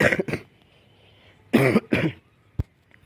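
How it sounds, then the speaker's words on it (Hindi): A person recovering from Covid-19 coughs close to the microphone: a quick pair of coughs, a pause, then a heavier double cough and a short throat-clearing click, in a quiet room. "अभी आई खांसी"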